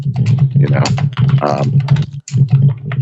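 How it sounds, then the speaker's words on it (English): Rapid computer keyboard clicks patter close by while people talk over them in a casual podcast conversation, with a steady low hum running underneath. "What's that sound? What do you hear? Bruce, are you typing?"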